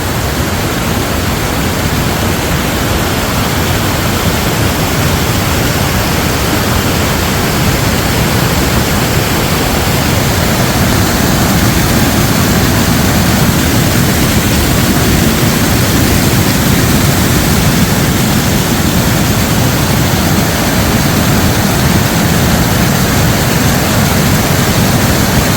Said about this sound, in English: another jewel of Venezuela, El Sapo Waterfall, with the beautiful tepus in the background